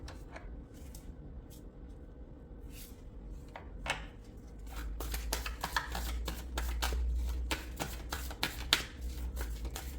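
Tarot cards shuffled by hand, quiet at first and then a dense run of rapid riffling flicks and snaps, close and fairly loud, with no speech.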